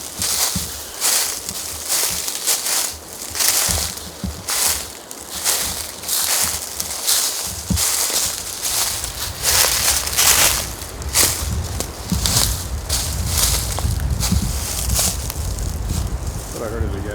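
Dry fallen leaves crunch and rustle underfoot as people hike through woods at Medoc Mountain State Park. The footsteps are loud and close and continue steadily, over gusty wind.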